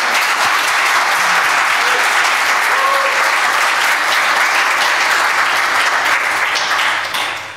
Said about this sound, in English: So please, big round of applause for Rikki.